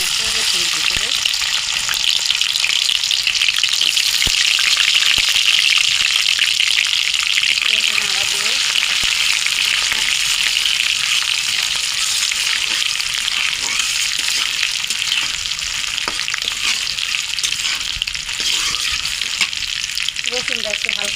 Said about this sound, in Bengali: তেলটা গরম হয়ে গেছে, এখন আমি রসুন দেবো।